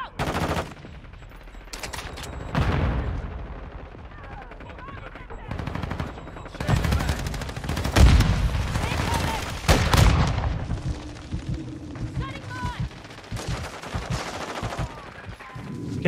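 Light machine gun fire in a video game: repeated loud, close bursts of rapid automatic shots separated by short pauses, with booming impacts.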